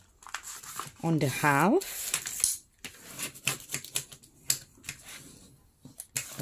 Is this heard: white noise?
no